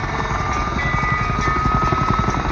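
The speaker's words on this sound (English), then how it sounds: "you are witnessing America's first and second generations of attack helicopters being flown in the same airspace" Two attack helicopters, an AH-64 Apache and an AH-1 Cobra, flying a display at an airshow, with steady loud rotor thumping and engine whine sustained throughout, fairly close and without talk.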